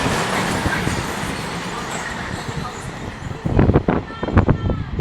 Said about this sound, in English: Shortest freight train ever.